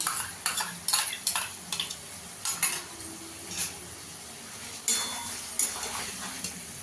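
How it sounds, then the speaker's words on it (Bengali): A spoon scrapes and taps against a pot as sour yogurt is added to chicken pulao, with a string of short, faint clinks and scrapes in an uneven rhythm over a quiet background. "আমি এই চামচের 5 চামচ টক দই দিয়ে দিয়েছি।"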